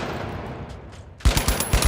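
Short bursts of rifle fire in a first-person shooter, a few quick grouped shots cutting in sharply after a quiet stretch, loud and close.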